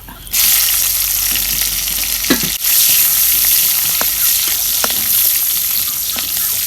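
Whole cinnamon, black pepper and cardamom sizzle loudly and steadily in hot oil in a pot being readied for chicken pulao, with a few clinks of a stirring spoon.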